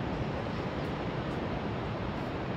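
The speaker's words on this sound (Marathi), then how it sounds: "समुद्र बीच ठिकाणी आलेलो आहे आणि सर्वांचं या निसर्गरम्य परिसरामध्ये हार्दिक स्वागत." Sea waves wash onto Divyagar beach in a dense, steady roar of surf that holds at an even level throughout.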